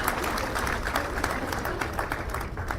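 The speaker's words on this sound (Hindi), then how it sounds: "सब लोग ताली बजा करके स्वागत करो एक बार और।" A crowd claps steadily at a campaign office inauguration, dense and continuous applause from many hands throughout, with no clear speech.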